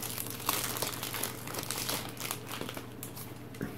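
Doctor Who trading card pack wrappers crinkle and crunch continuously as they are torn open, a close, busy plastic rustle with no talking.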